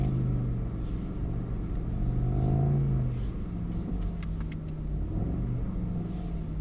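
A Mercedes SL63 engine rumbles and rises in pitch through revving surges while the car slides sideways on a driving track, heard from inside at moderate loudness.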